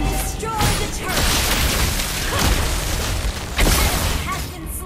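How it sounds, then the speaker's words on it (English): A turret being destroyed in the Mobile Legends video game, heard as a loud, sustained booming explosion with bursts and pops layered over dense game noise and an announcer-style voice. "Your team destroyed the turret!"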